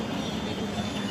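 A brief, steady rumble of an approaching train fills the moment, loud and continuous with no talking.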